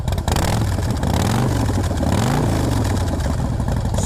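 A 2017 Harley-Davidson Softail Slim S with a stage 1 kit and Vance & Hines Shortshots pipes is revved up close, its loud, throaty exhaust rising and falling in a few quick pulls, with no talk.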